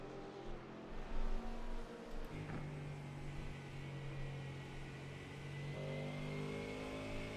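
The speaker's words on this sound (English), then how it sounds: "On board with Caden Webb here in the Mustang, trying to hunt down that Porsche of Jose Draws." Onboard engine note of a Mustang GTD race car at Le Mans in a racing game, a steady loud drone that holds a sustained pitch, briefly rising as it accelerates, with no talking.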